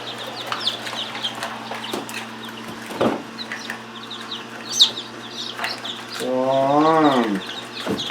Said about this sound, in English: Let's see how many baby chicks we have.